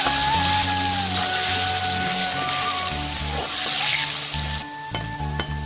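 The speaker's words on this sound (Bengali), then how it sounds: "আলু কটা লাল লাল করে ভেজে নেবো" Potatoes frying in hot oil, a steady close sizzle with soft clinks and stirring scrapes of a utensil, continuing without speech before easing near the end.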